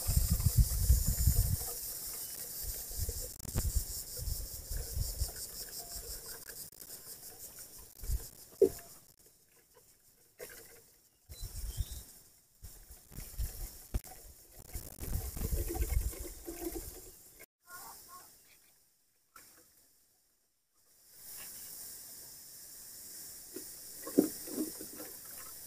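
Water sprinkled over freshly sown vegetable seeds in a planting tray, a soft hissing patter that comes in stretches, pauses and resumes, heard faint and close with no talking.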